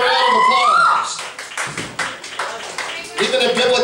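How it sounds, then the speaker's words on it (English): Audience applause welcoming a musician to the stage, ragged individual claps that swell and fade, mixed with loud voices and cheering at the start and end. "Give him a round of applause."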